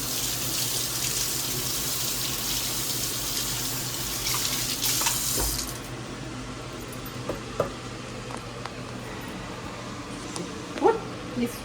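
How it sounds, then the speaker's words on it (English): Running tap water splashes over hands at a kitchen sink, a steady broadband hiss for about six seconds that then cuts off, leaving quiet room sound with a few faint clicks and a small dog yipping nearby. "now, wash my hands"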